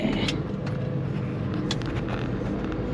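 A small company truck drives along with a steady, loud engine and road rumble throughout, accompanied by a few faint clicks and knocks, and no one speaks.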